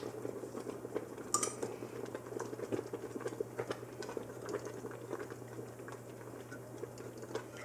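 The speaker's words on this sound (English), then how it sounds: "So we'll let that cook in for a little while longer, and it's starting to thicken up" Strawberry rhubarb jam simmers and thickens in a pot, giving a steady, soft bubbling and popping texture at low volume over a faint hum, with no talking.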